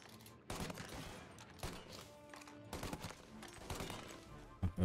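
Sniper and other gunfire in Mafia: Definitive Edition, a series of sharp loud shots and bursts spread across the few seconds, with game music and effects underneath.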